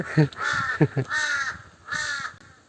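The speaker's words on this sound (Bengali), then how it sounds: "এই কাক কিন্তু পরিবেশের জন্য খুবই উপকারী একটা পাখি" A crow cawing nearby in a village, several harsh caws in two quick bursts followed by longer drawn calls, clear and close with no other sounds.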